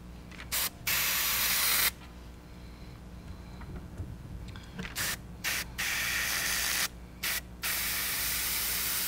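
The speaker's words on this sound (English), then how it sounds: "Now let's add a little opaque red into the airbrush." Airbrush spraying opaque red paint onto a fishing lure, a loud, steady hiss in a few long bursts broken by short gaps, close by.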